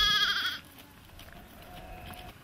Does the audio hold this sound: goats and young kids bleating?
yes